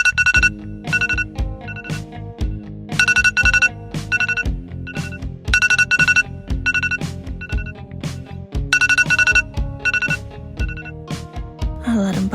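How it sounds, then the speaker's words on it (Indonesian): A bright electronic morning alarm clock melody rings steadily in repeating bursts of chiming tones over a rhythmic backing, with no voices. "Alarm pagi berbunyi,"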